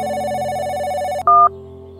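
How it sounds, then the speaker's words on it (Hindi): A telephone rings with a steady electronic trill, then switches to a brief louder tone before falling back to a quieter hum; no one speaks. "घंटी तो जा रही है।"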